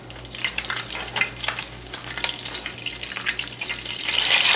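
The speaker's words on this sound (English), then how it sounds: "I'm gonna get my bacon grease off this burner because this burner stays hot" Hot bacon grease sizzles in a pan on a stove burner, a continuous bright crackle with a low steady hum underneath, rising slightly louder at the end, with no voices.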